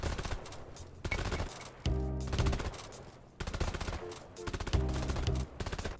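The Warthog shotgun in Deep Rock Galactic fires heavy, booming blasts in short spaced volleys, with mechanical reload clacks in between, loud and close with no talking.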